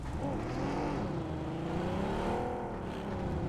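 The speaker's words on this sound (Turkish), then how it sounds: "Gizem araba geliyor Gizem." Car engine in a video game drawing nearer, a steady revving whir with rising and bending engine tones, fairly loud and continuous with no talk.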